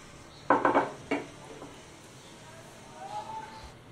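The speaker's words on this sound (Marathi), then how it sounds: "भाजी थोडीशी हलवून घेऊया।" A spoon scrapes and clatters against a pot while stirring stuffed eggplant curry (bharli vangi), with a quick cluster of knocks followed by one more, then quiet kitchen background.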